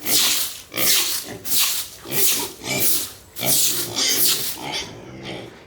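Pigs at a mini farm oink and snort loudly in repeated bursts close by, with a voice heard briefly among the calls.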